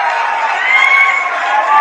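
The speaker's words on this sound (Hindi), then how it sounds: "अभी ताली मत बजाओ, अभी मैंने बात बोली नहीं" A packed political rally crowd in Amethi, Uttar Pradesh, claps and cheers in a dense, steady roar of applause and shouts that holds loud throughout without any break.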